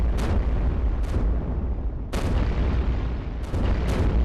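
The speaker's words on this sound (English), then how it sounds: "They're going to go ahead and hit that with bombs." Repeated bomb blasts from the iBomber Defense game, a steady run of loud booming explosions with sharp onsets about every second over a continuous low rumble of battle.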